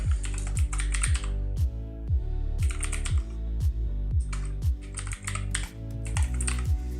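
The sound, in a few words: typing a name on a computer keyboard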